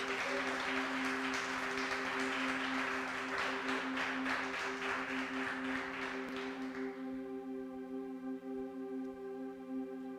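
A church congregation applauds in a long, dense burst of clapping for about seven seconds, then stops abruptly. A sustained organ or keyboard chord hums underneath and carries on alone afterward.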